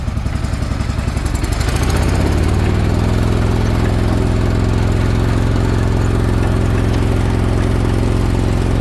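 A Toro TimeCutter riding lawn mower with a 42-inch deck cranks over for about two seconds, then catches and settles into a steady, loud, close idle that runs continuously with no talking.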